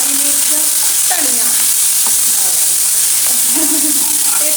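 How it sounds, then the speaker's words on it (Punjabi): A dal tadka sizzles loudly in a pan while being stirred for a ghotwe chole dal, a dense continuous hiss broken by scraping strokes of the spoon, close and with no speech. "ਦਾਲ ਵਾਲਾ ਤੜਕਾ ਵੀ ਕਰ ਲਿਆ ਤਿਆਰ"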